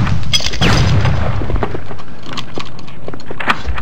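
Gunfire in the video game Nosferatu, heavy booming shots with a deep low rumble that fade into a quieter game ambience with a few faint pops, loud and up close.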